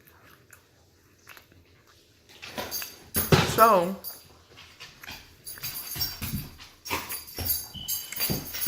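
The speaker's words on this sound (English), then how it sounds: "the dogs are fighting over a bone" Dogs scuffle over a bone with snarling, chewing and a whimpering yelp, loud and close in the middle of the clip, while someone talks over and around the noise.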